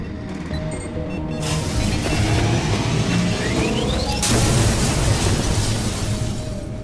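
A blast goes off in Mass Effect 2 after a distress signal control is switched off: a loud, sustained roaring burst with a rising whine and a second surge near the end, no talk.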